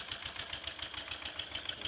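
A black 1996 Suzuki DR800 motorcycle idles steadily, its engine giving an even, pulsing low thump with a constant mechanical rattle, close and alone.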